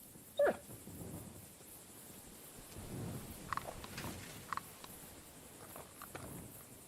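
A dog whimpers in a few short, high whines, one louder near the start and two fainter ones later, over a steady noisy background.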